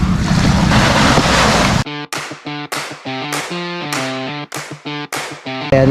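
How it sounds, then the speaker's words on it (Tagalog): Waves wash on a seashore with loud, steady rushing surf for about two seconds, then give way to choppy, gusting bursts with no talking. "nandito na naman po ako sa tabing dagat"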